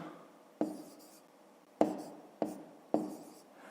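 Pen strokes as numbers are written by hand on paper, four separate short scratchy taps spaced about a second apart, close and quiet, with no talk.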